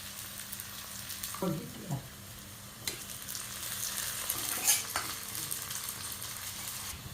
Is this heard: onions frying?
yes